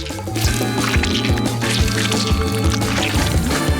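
White Nutella pours thickly onto a cake, a loud, continuous wet glugging and dripping flow with soft squishy pulses throughout, close up and without speech.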